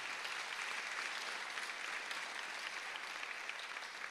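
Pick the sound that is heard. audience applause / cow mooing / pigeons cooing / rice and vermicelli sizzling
audience applause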